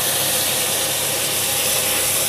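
Onions frying to golden brown for vegetable biryani, with tomatoes just added: a steady, loud broadband sizzle and hiss with no talk.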